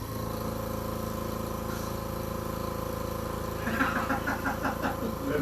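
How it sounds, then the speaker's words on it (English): An air compressor drones steadily and evenly throughout, with a brief burst of clattering near the end. "my air compressor makes a little noise"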